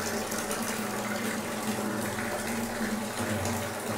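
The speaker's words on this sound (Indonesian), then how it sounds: "ya tinggal buka ini keran ini aja." Water runs steadily from a tap fed by a Paloma gas water heater, a continuous close rushing flow with no talk.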